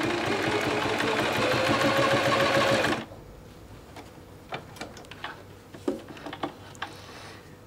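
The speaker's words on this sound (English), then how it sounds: "So now I'm going to sew my stitched line down the placket." A sewing machine runs steadily for about three seconds, stitching a test line on a spare piece of fabric, then stops, leaving faint clicks and handling sounds.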